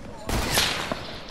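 Gunfire in Fortnite, a sudden loud burst of shots ringing close up, then fading with a smaller follow-up crack.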